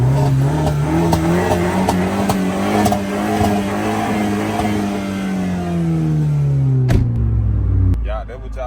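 A turbocharged car's engine revs and accelerates loudly and close up in Shreveport, with a sustained, rising drone and some tire noise. The engine cuts off near the end as a voice comes in.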